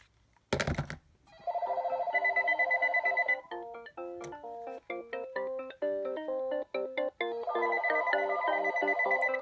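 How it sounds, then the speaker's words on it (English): Several AT&T EL52210 cordless phone handsets ring at once indoors, a steady electronic ringtone of repeating melodic beeps, loud and close, alone with no talking. "all the other phones are ringing"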